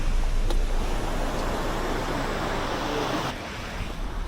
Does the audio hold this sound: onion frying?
no